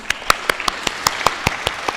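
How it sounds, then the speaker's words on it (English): Clapping at an International Women's Day event, honoring Miss Tonga: a handful of distinct, sharp hand claps in a loose, uneven rhythm, fairly close and sparse rather than a full crowd. "Please, another round of applause for"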